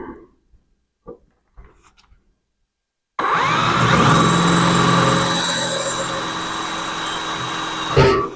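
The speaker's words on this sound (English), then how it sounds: "And now we can drill." A power drill bores into the hood of a Toyota Tacoma, a loud sustained whine starting abruptly after a few quiet taps and running about five seconds before a final louder burst.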